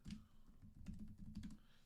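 Quick bursts of keystrokes on a computer keyboard, a short run of clicks with small pauses between them, close and fairly quiet with no voices.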